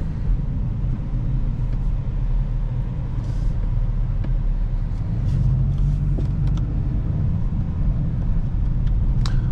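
A 2024 VW Golf R with a DSG gearbox driving in race mode, a steady loud low engine and road rumble heard from inside the cabin, with no talking.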